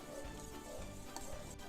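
A sauce mixture is stirred in a pan, giving a faint, soft sizzle with light scraping and an occasional small clink of utensil on metal.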